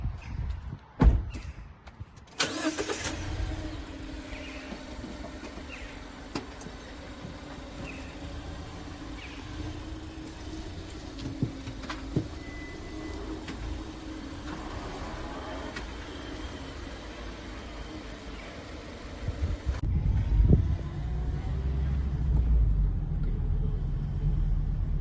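A car with newly replaced disc brakes on a test drive along the road makes a steady low rumble of road and engine noise, opening with a thump and growing heavier near the end.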